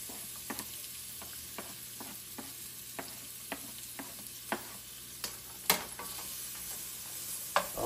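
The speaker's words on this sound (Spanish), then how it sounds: "vamos a ponerle aquí a sofreír cebolla y ajo" Onion and garlic sauté in butter in a pan for beef tacos, a quiet continuous sizzle punctuated by regular clicks and scrapes of stirring, with a few sharper knocks near the end.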